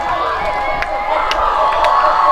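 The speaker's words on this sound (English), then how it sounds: "Jay is motioning the crowd to make some noise" A crowd cheers and shouts at a high school football game between the Jesup J-Hawks and Hudson Pirates, a loud sustained roar with a few sharper whoops and yells, and some voices mixed in.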